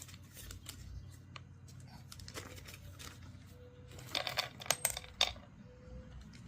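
Small metal screws for a kydex sheath clink and tap together as they are handled, a cluster of light, sharp clicks building near the end over a quiet, steady background hum.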